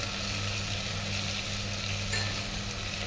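A bay leaf dropped into hot oil in a pan while making soyabean curry, giving a steady, even sizzle and frying hiss throughout with no talking.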